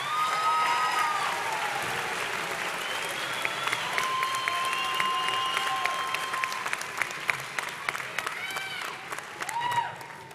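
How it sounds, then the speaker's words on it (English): A large crowd applauds graduates at a university commencement ceremony, sustained hall-wide clapping with some cheering and whoops, thinning toward the end. "Let's have a big round of applause for all those graduates"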